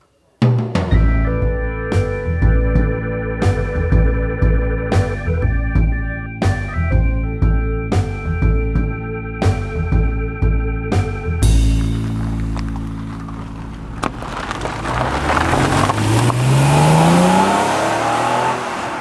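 A 1991 Honda NSX being driven, its engine note swelling and climbing steadily in pitch near the end as it accelerates, after a long stretch of steady tonal sound punctuated by regular sharp beats.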